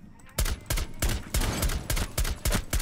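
Rapid bursts of gunfire from the tactical shooter Rainbow Six Siege, a dozen or so loud, sharp shots in quick irregular succession with a constant game background beneath them.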